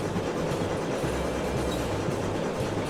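A train rumbles steadily nearby as it rounds a corner, with a continuous low roar and faint rhythmic clatter of wheels on track, no voices.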